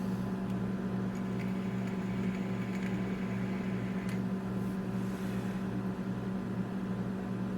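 An old microwave oven runs with a continuous low electrical hum and a steady whir that sit evenly at moderate level throughout, with a few faint clicks and no speech.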